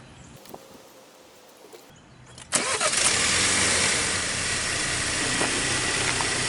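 A 2018 BMW X1 sDrive28i starts up after a quiet cabin moment: a sharp crank-and-catch burst, then a steady, fairly loud idle that settles slightly and continues to the end.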